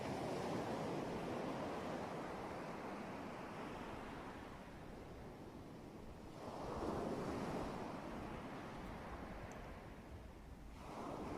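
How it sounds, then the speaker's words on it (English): Ocean waves crash on the shore in slow broad surges, two or three swells rising and receding, soft and distant with some wind rush. "Listen to the waves crashing on the shore"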